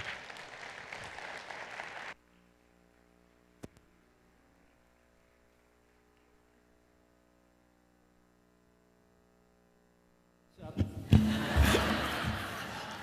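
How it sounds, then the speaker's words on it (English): Audience applause and laughter fill a hall, loud and dense at the start, then give way to near silence with a low hum, before a second burst of clapping and cheering swells up. "it's perfectly fine for you to clap too"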